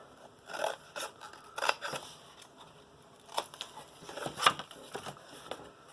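Scissors snip through folded paper, a series of about a dozen quiet, close crisp cuts and rustles at irregular intervals, with no voices.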